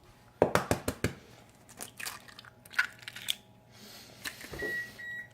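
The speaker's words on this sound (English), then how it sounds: "There goes the oven. She's already preheated herself up to 350." A kitchen oven that has finished preheating to 350 gives a short electronic beep, heard near the end as a steady single tone, after a run of sharp clicks and crunching handling noises.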